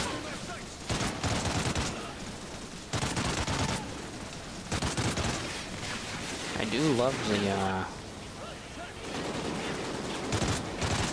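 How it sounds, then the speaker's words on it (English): Rapid SC-2010 rifle fire in Call of Duty Ghosts comes in loud bursts with other battle noise, while someone talks over parts of it. "The sound of the SC-2010 It's pretty, uh, unique."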